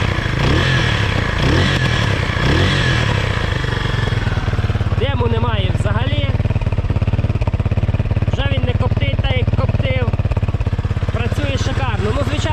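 A Zongshen ZS250GS 250cc motorcycle engine, just repaired, idles loudly and steadily nearby, with a fast rattling putter, while someone talks over it.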